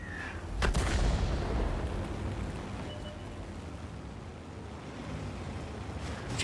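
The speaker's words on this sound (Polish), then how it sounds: "Miał, miał jeszcze ten jeden pocisk trafił nas" A tank shell hits the player's tank in World of Tanks, a sharp loud impact thud followed by a sustained low rumble of engine and battle noise, with no voices over it.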